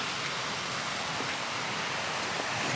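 Broadband rushing of a fast-flowing river swollen after a storm, a constant close wash of water with no talk over it.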